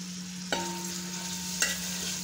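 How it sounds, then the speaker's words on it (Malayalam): Onions sautéing in a pan for homemade chicken biryani, a steady sizzle running throughout with two sharp scraping stirs of a spoon against the pan, no voices. "സവാള വഴന്ന് അത് ബ്രൗൺ കളറാവണം നന്നായി വഴങ്ങണം"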